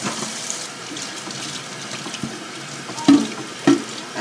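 Tap water runs steadily into a kitchen sink while eggs are rinsed, a close, continuous splashing hiss broken by a couple of brief knocks near the end.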